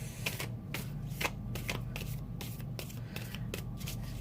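A trimmed first-edition Lumina Tarot deck being shuffled by hand, with a steady run of soft papery riffles and flicks, close and fairly quiet, no one talking.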